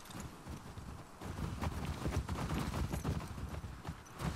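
Horse hooves clip-clopping in The Last of Us Part 2, a steady run of close, fairly loud hoofbeats with an occasional faint whinny and no talk over them.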